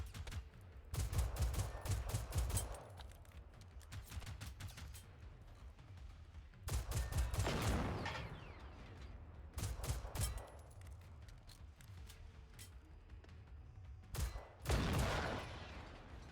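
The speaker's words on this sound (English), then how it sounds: "try to line these shots up a little better, getting a little sloppy with my aim there" Gunfire in the video game Generation Zero comes in several loud bursts of rapid shots, separated by quieter stretches of low ambient rumble.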